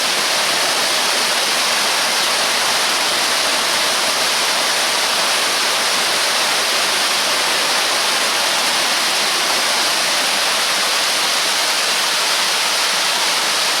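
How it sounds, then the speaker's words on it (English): A waterfall pours beneath a bridge on the River Gade, giving a steady, dense rushing roar that holds unbroken throughout, with no voices. "you can hear it, there's a waterfall going on under the bridge"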